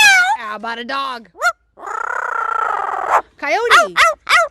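A talking parrot imitates a cat's meow, a rising and falling wavering call following its other chattering vocal mimicry, close and loud, with a longer sustained squawk in the middle.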